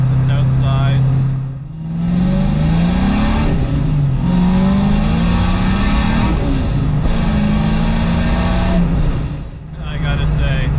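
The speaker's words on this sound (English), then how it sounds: "it's a healthy motor, smooth, and it just wants to breathe and open right up" A 1988 Ford Mustang Foxbody barn find revs hard while driving, its engine note rising and falling in long, loud waves from inside the car.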